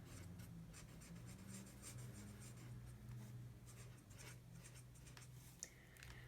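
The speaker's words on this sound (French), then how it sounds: "je vais écrire juillet" Pen writing the word July by hand in a paper budget planner, a soft steady scratching that runs throughout, close and quiet, with a faint low hum beneath and a small tap near the end.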